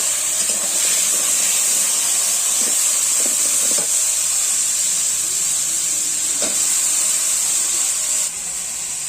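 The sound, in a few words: chopped vegetables added to hot pan, sizzling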